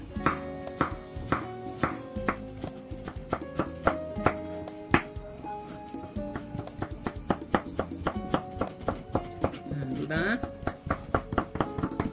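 Vegetables such as beans, carrots and jicama cut on a board for vegetable lumpia, a brisk run of sharp knife chops in quick irregular rhythm, with music playing underneath throughout.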